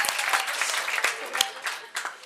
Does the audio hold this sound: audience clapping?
yes